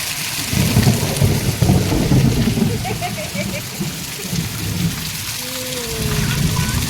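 Low rumbling thunder rolls beneath steady rain, with a voice heard faintly in the background.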